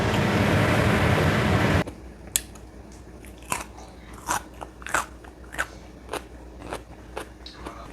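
A crunchy brown-skinned cucumber is bitten and chewed in a series of sharp, close crunches following a loud burst of noise at the start.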